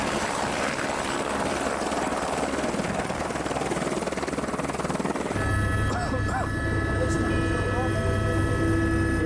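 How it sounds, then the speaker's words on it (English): A helicopter's rotor thrum near Everest base camp dominates, steady and fairly close, with a shift partway through to a harsher engine whine and tonal hum. "Then another helicopter gets through."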